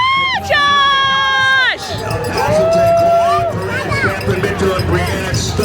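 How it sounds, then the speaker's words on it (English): Crowd at the finish line of a 2025 Rock N Race cheers and shouts loudly and continuously, with a whistle-like tone early on and a voice calling out a name over the noise. "We keep the cheering going."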